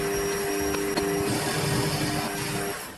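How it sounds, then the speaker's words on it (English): Metal lathe running on power feed while machining a plate, a steady close mechanical whine and hum with faint cutting noise and a couple of small clicks, easing off toward the end. "I'm going to power feed this in."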